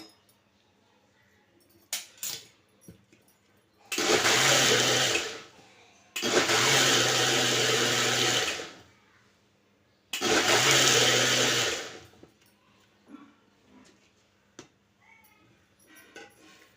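A kitchen mixer grinder blends mango pulp for aamras in three loud, steady bursts of whirring, each lasting about two seconds, separated by short pauses with faint handling clatter.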